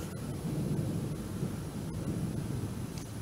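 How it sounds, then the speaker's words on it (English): Deep, rolling thunder from a Florida thunderstorm rumbles continuously, a low, heavy drone that swells slightly and carries on without pause, faint wind or rain hissing above it. "Love these Florida thunderstorms."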